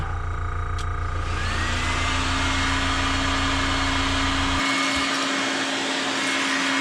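A heat gun switches on to heat-set paint on a fishing lure, a steady loud blowing whine with a hum underneath that drops away near the end, leaving only the airy rush.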